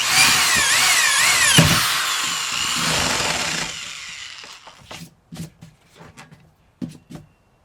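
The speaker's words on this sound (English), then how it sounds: "take a 3/4 inch bit and drill a hole right dead center" A power drill bores a hole with a 3/4 inch bit, a loud whining grind for several seconds that then stops, followed by scattered knocks and handling sounds.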